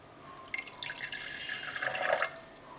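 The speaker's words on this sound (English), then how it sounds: "We're starting out with a large beaker and we're adding 100 ml of water." Water is poured into a large laboratory beaker, a soft, steady trickling and splashing that builds slightly over a few seconds and then stops, faint and alone.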